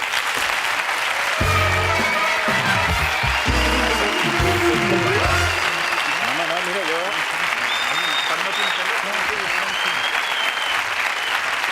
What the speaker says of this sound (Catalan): Un aplaudiment pel Rapel